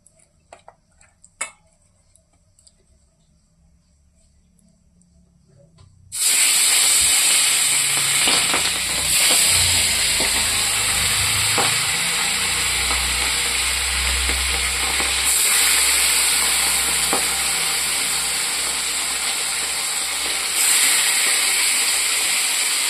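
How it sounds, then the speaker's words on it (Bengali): Fish coated with turmeric and salt drops into hot oil in a kadai after a few quiet clicks, and a loud, steady crackling sizzle follows and keeps going. "তেলটাও গরম হয়ে গেছে, এখন ভাজা করে নেব।"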